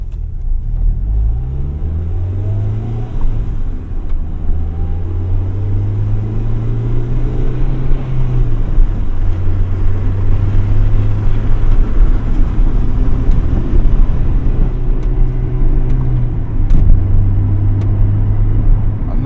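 A classic Honda CRX engine runs while the car is driven, a steady close rumble that rises and falls with revs and shifts over nearly twenty seconds, with no talk.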